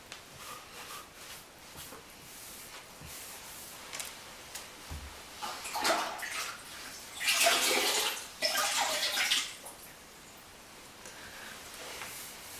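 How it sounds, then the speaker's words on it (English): Clean water from a bucket sloshed and splashed over freshly grouted bathroom floor tiles, building to loud washing surges in the middle before settling back to a soft trickle. "I have a clean bucket of water, and I'm going to give the tiles another rinse."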